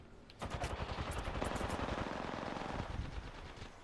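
Rapid automatic gunfire in a video game, a dense burst of shots fired from platforms in quick succession, loud and continuous for several seconds, with no talk over it.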